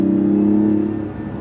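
A 2024 Mazda CX-90 Turbo SUV accelerates, heard from inside the cabin as a smooth, steady engine drone that holds firm and then eases off slightly near the end, with no talking.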